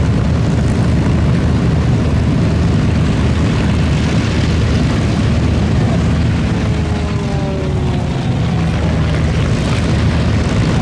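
Light all-composite Gamebird aerobatic aeroplane with a four-blade propeller flies past at an airshow, a steady loud engine drone that swells and shifts pitch throughout, with crowd and ambient noise underneath.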